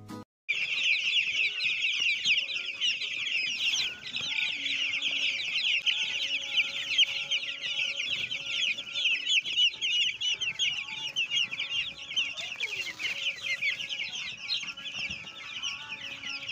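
Broiler chickens on a farm cluck and chatter continuously, a dense, close flock of overlapping calls that holds steady throughout without any talk.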